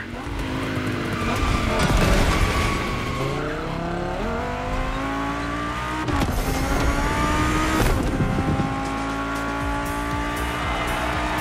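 Two German sports cars in The Crew Motorfest video game rev hard through the gears, engine notes climbing and dropping over a continuous loud roar with tire squeal, steady throughout with no pauses.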